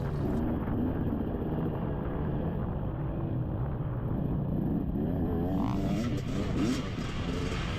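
A two-stroke dirt bike screams through its power band during a Carolina cross-country race, the engine note rising and falling steadily under heavy wind buffeting from an onboard rider's position, with no pauses.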